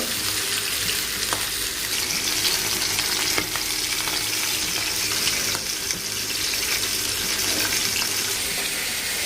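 Fish and poppy-seed paste cooking on the stove produce a steady, loud sizzle of frying in hot oil, with faint clinks and running-water sounds in the background.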